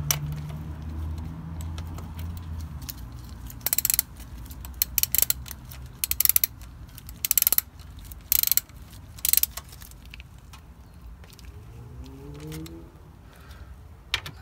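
Fill cap being screwed back into a Ford Transit MT75 gearbox, quiet metallic ratcheting clicks and jangling in short bursts near the middle, over a low background hum.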